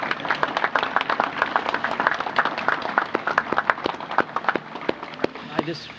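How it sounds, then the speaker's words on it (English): An outdoor gathering honoring armed forces veterans at a Wreaths Across America ceremony breaks into applause, scattered sharp claps from a modest crowd running steadily, with some voices mixed in. "can we just give a really big applause to all of them right now?"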